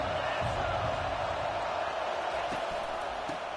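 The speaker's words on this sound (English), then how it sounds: "This crowd bringing an ear-splitting welcome to their visitors." A dense, steady roar from a packed college football stadium crowd fills the air without a break, loud and unbroken beneath a commentator's voice.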